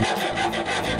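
Metal solar panel mounting rails being cut to size, a steady rasping, rubbing stroke that continues without pause, close and fairly loud, with no voices.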